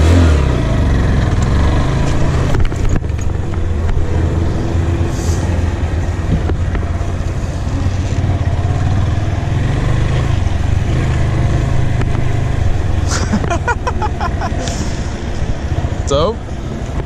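A motorcycle ridden for the first time, its engine droning loud and steady at close range as the clutch is eased out, with someone talking over it throughout.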